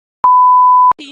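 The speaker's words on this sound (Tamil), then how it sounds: "சாரி ப்ரோ, பீப் போட்டுக்கோ." A loud, pure censor beep holds one steady pitch for about two-thirds of a second, then a voice starts speaking right after it.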